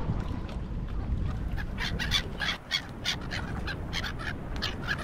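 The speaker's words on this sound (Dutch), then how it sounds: "Ook de meeuwen hebben rust." Seagulls on a Sunday waterfront promenade lined with moored fishing boats in Sabancuy, Mexico, give a series of repeated squawking calls over a steady background wash of open-air noise.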